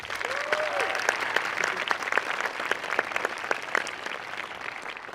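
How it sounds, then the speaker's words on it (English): Graduation audience at a 2017 early college high school ceremony applauding teachers and staff, a steady wash of many hands clapping from a large crowd, sustained and moderately loud throughout. "So if we could please give them a round of applause."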